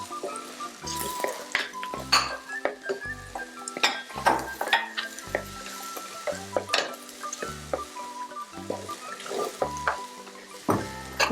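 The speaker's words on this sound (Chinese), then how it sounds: "那我们这些菇都可以优先下来一起炒" Mushrooms are stir-fried in a pan with oil, giving a steady sizzle broken by repeated clinks and scrapes of a spatula against the pan, with voices talking over it.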